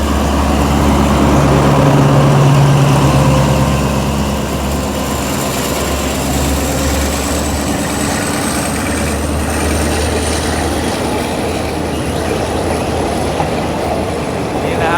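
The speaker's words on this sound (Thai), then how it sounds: "นี่นะครับอานซอม4411นะครับ ตัวนี้เป็นรุ่นสุดท้ายเลยนะครับของอันซอมนะครับที่นำเข้าประเทศไทยนะครับ" An Alsthom 4411 ADD 2,400-horsepower diesel locomotive hauls a parcel express freight train past a level crossing north of Ban Pong station in Thailand. A loud, continuous engine and rail rumble is joined by a long, rising whine.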